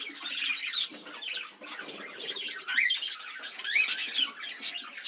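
Cockatiels and budgerigars chirp and squawk in an aviary, with a busy, overlapping chorus of shrill calls that stays close and fairly loud throughout.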